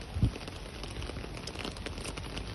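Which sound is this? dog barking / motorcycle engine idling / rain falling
rain falling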